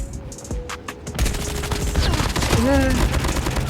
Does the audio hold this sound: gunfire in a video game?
yes